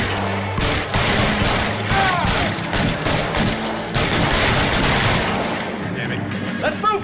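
Machine gun fire in the L.A. Noire video game, a loud sustained fusillade of rapid bursts with booming low thuds running through most of the stretch.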